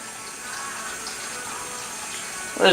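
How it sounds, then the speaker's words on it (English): Hot and cold water running from a kitchen tap while cooking ground beef for taco salad, a steady soft wash of flow with a louder splash or gush at the end. "let's turn some hot water and cold water on"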